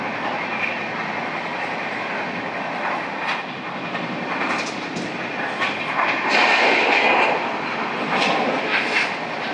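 Samata Superfast Express 12807, running from Visakhapatnam at about 130 km/h, gives a loud, steady roar with rattling rail noise and a dense rushing hiss. The sound is heard from aboard the train, with occasional clatter bursts and no speech.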